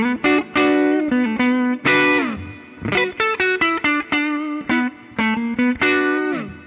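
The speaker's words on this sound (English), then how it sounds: "But here's just those neck pickup tones." An electric guitar plays a lively melodic riff through its neck pickup with a warm, round, slightly overdriven tone, notes ringing clearly in quick phrases.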